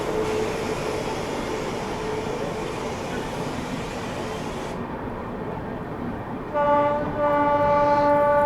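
The 12226 Kaifiyaat SF Express from Delhi to Azamgarh rumbles past in fog as a long, steady roar of wheels, with a loud sustained horn sounding near the end.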